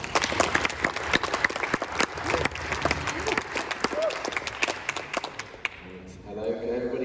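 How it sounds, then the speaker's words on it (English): Audience applause for a speaker at a conference, a dense wash of many hands clapping steadily for several seconds, then fading as a voice begins talking near the end. "let's give a big applause to Chris Armstrong."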